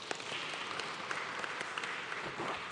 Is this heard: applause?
yes